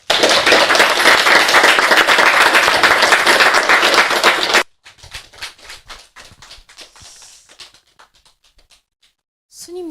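Audience applause, a dense burst of many hands clapping loudly for about four and a half seconds, then stopping abruptly, followed by scattered lingering claps and a few soft taps fading out.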